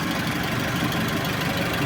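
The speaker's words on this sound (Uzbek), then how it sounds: "Mashina yurib turibdi, konditsioner ishlab," A Chevrolet Lacetti idles with its air conditioner running at a car market, producing a steady close engine hum with a faint knocking rhythm and constant fan noise and no voices.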